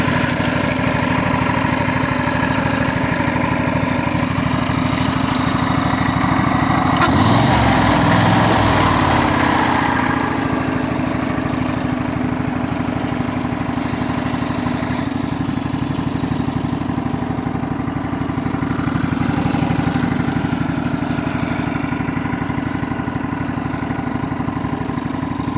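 Off-road vehicle engine idling in third gear on an evening trail ride, a steady close mechanical drone that holds throughout, with a brief rougher surge partway in and no talking.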